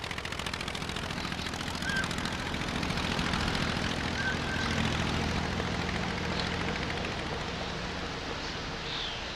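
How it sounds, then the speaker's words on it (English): Blériot's monoplane flies with its Anzani engine, giving a steady, loud, droning rumble with a rapid pulsing beat that holds throughout. "The Anzani engine of Blériot's plane ran perfectly"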